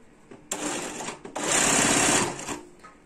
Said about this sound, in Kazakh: Тігіп отырған кезде матаны қолыңызбен жаймен ұстап отырыңыз.